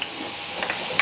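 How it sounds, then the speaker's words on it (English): Chicken gizzard frying in hot oil gives a steady close hiss and sizzle with a few brief crackling pops across one second. "I'm done frying the gizzard."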